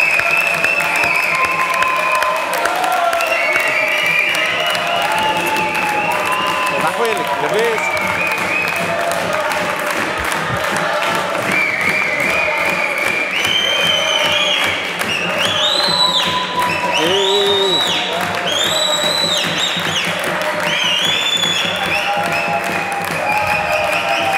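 A television studio audience applauds a singer with sustained, dense clapping for the whole stretch while a host's voice and music run over it.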